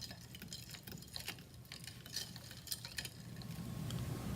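Ocean water is stirred in a freezing point lab, making quiet, irregular scraping and clinking taps against the container over a low background hum, with no talking.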